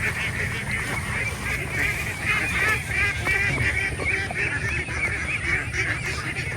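Free-range ducks call outdoors in a rural setting, a continuous chorus of honking quacks from several birds at once, fairly loud and steady over a low background rumble, with no one speaking.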